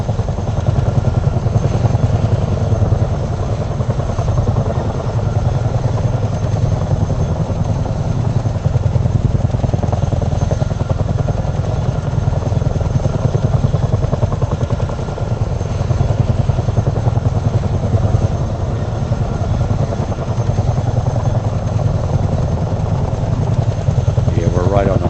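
A big Chinook helicopter in flight gives a constant, close, throbbing rotor and engine drone lasting the whole stretch, with crew voices talking over it at times.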